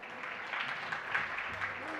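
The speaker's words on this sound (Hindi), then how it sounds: "अपने लिए तालियां बजा रहे" An audience at a Jain religious discourse claps, a moderate wash of applause with a voice briefly present beneath it.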